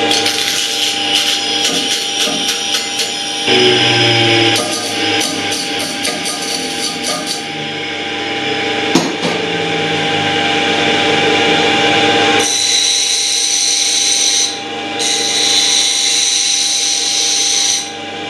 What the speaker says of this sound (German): Ich muss jetzt natürlich diese ganzen Scharten wegschleifen.